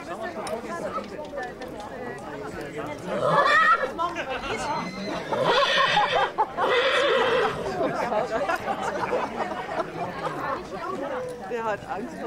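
Horses neighing among a festive crowd at the Georgiritt horse procession in Traunstein, Bavaria, with whinnies rising over constant nearby chatter and voices.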